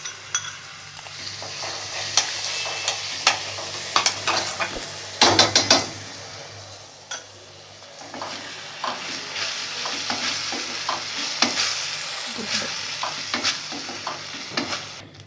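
Chopped onion and ketchup are stirred in a hot pan on low heat, giving a soft continuous sizzle broken by frequent irregular spoon scrapes and clinks against the metal, close up with no talking.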